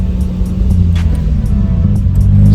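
A manual-transmission car driven by a learner shifting into second gear: a loud, steady engine drone heard from inside the cabin, with no clear rev change.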